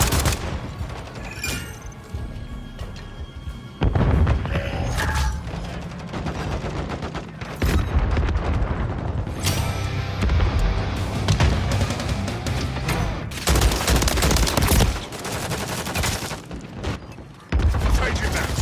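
Dense Call of Duty gunfire at an airplane graveyard: bursts of automatic fire and heavy booms rattle almost continuously, loud and close, with brief lulls, while shouted in-game voices call out over the shooting.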